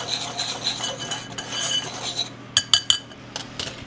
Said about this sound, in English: Going to stir that up to where that it's nice and even.